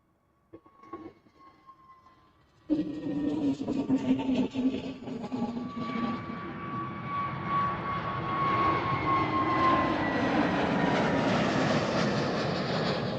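An EasyJet airliner passing at Amsterdam Schiphol Airport. A few faint knocks open it, then a sudden rumbling jet roar with a high whine sets in and keeps swelling as the plane goes by.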